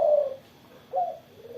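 Captive turtledoves kept in a cage give two soft, low coos with a pause between them, close by and fairly quiet, no voices.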